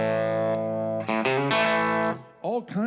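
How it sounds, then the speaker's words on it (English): Electric guitar with a second voice blended in on its pickups, heard as a long sustained chord, then a couple of strummed chords with chorus-like shimmer and some bent notes at the end, loud and up close. "And then I can add the second voice in on these pickups"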